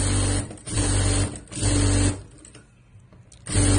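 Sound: sewing machine stitching a shirt hem

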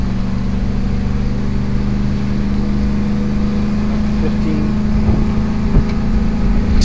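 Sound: 2011 Ford F350 6.2L truck engine pulling uphill

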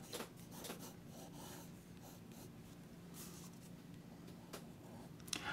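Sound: pencil drawing on paper

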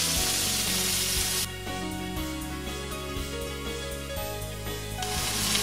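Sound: stuffed chicken breast searing in butter in cast iron skillet

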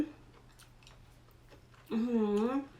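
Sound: chewing crunchy seafood

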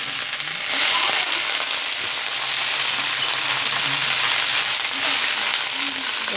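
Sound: mustard greens added to hot oil, frying

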